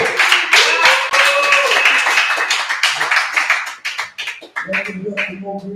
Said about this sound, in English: Clap it up for the comic styles of Che T.